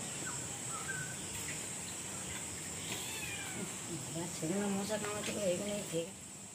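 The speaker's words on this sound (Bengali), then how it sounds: "এখানে বিড়ালগুলো সব মাছ খাবে বলে লাইন দিয়েছে।" Cats lined up waiting for fish give a few faint meows toward the end, heard over a soft steady background hiss from rainy weather, with a person speaking nearby.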